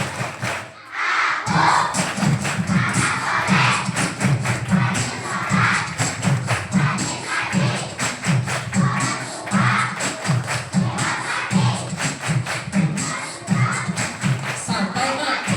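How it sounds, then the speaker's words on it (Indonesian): Children at an Isra Mi'raj event in an elementary school clap the 'tepuk anak soleh' chant together: loud, rhythmic group claps in quick patterned bursts, mixed with their chanting voices throughout. "Yuk semuanya tepuk anak soleh"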